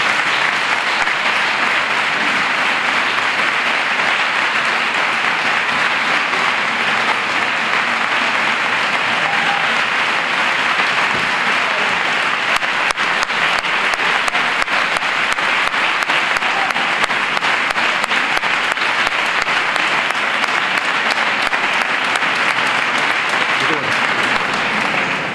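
A large audience at a Christmas carol choir gathering in Los Palacios y Villafranca gives long, loud, sustained applause, a dense wash of clapping that stays steady for the whole stretch.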